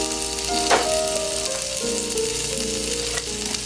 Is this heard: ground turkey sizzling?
yes